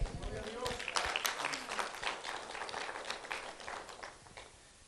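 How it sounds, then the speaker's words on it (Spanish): A church congregation gives a round of applause during a sermon, scattered clapping that starts fairly strong and tapers off, with voices underneath. "Un aplauso a él si lo entendiste"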